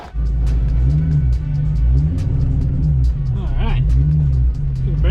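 A Ford Mustang Foxbody engine rumbles steadily while driving, a loud low drone from inside the car with shifting pitch and some higher whines layered over it.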